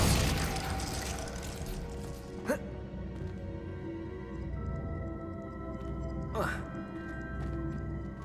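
A Glacius spell cast in Hogwarts Legacy, part of a rapid combo with Accio and Depulso, lands in two sharp whooshing bursts amid dense combat noise, with a voice speaking over the action.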